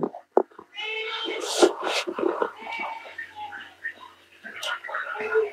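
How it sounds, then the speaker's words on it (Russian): A cat meows nearby in drawn-out, wavering cries that rise and fall over several seconds, mixed with scattered small knocks and faint background voices indoors. "Кошка, иди отсюда."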